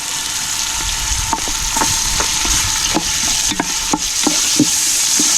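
Ginger is sautéed in a hot pan, a close, constant sizzle broken by a run of sharp, regular scrapes as the pan is stirred.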